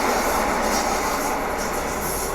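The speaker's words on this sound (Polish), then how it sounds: "Już rusza skład do Żyrardowa e EN 71104" An EN71 electric multiple unit pulls away from a station in Warszawa Włochy toward Żyrardów, a steady, loud rumble of rolling wheels and motor noise close by, with no talking.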